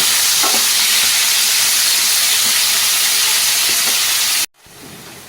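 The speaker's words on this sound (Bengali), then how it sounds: "এবার আমি পেঁয়াজগুলোকে ভাজব" Onions fry in oil with bay leaves and cumin, a loud, even sizzling hiss close by that runs steadily and then cuts off abruptly near the end, leaving quiet room tone.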